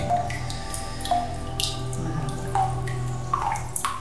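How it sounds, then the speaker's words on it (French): Water drips echo in the stone cistern of Thoronet Abbey, a Cistercian abbey in Provence: a handful of clear, resonant plinks at irregular intervals ring out over a steady low hum. "Vous voyez, juste quelques gouttes déjà, c'est déjà très puissant."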